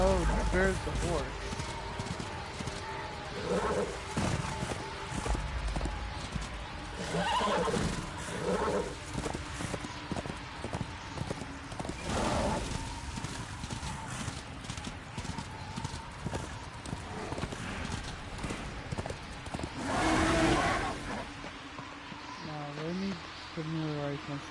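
Rapid hoofbeats of a galloping horse in Darksiders 2 Deathinitive Edition over a busy game soundscape, with a loud neigh near the end and a voice talking over it.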